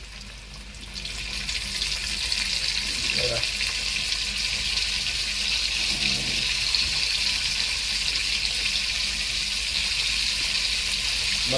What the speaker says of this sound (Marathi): जसा एकदम मस्त साऊंड येतोय बबल्सचा पूर्ण.